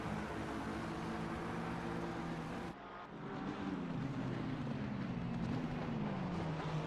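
Engine noise from a large pack of race cars streaming past on the Imola circuit in a racing sim, a steady loud droning roar with shifting engine tones and a brief dip partway through.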